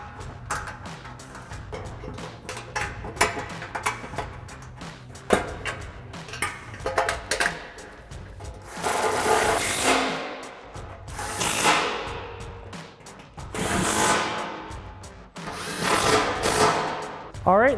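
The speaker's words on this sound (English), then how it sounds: "we're gonna reinstall our 4 12 millimeter bolts that we took out" Twelve-millimetre skid plate bolts go back into a Toyota Tacoma with a power tool, which whirs in several short, close bursts amid clicks and shop noise, with someone talking between them.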